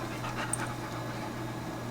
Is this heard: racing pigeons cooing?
no